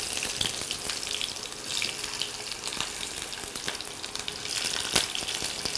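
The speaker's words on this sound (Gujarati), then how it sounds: "હવે એમાં ડુંગળી સાતળીશું" Onions sautéing in a pan during a Gujarati cooking competition, a steady soft sizzle with scattered crackles and light stirring scrapes throughout, fairly quiet and without talk.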